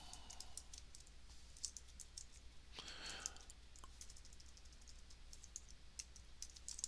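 Typing on a computer keyboard, a quiet scattered patter of light key clicks throughout, close but faint.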